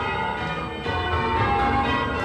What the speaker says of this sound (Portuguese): Aos domingos e feriados, o som dos sinos ecoa por Oxford, entoando uma rapsódia de ritmos e melodias.